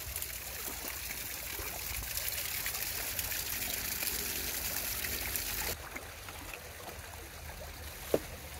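Water flows in a Vietnamese stream with a steady, close rushing trickle. It drops to a softer burble partway through, and a single sharp tick sounds near the end.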